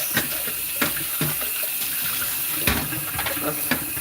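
Water runs steadily from a kitchen tap while a food processor is rinsed out in the sink, with a constant broadband rush broken by occasional splashes and knocks as the bowl shifts under the stream.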